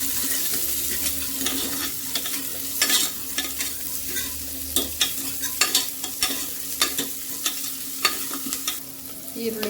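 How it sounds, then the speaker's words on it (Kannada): Chopped onion fries in oil for a sprouted horse gram sambar, a steady sizzle broken by a run of sharp spoon scrapes and clacks against the pan as it is stirred, close and without talk. "ಅದನ್ನು ಒಗ್ಗರಣೆಗೆ ಹಾಕಿದ್ದೀವಿ. ಅದು ಎಣ್ಣೆಲಿ ಚೆನ್ನಾಗಿ ಫ್ರೈ ಆಗಬೇಕು."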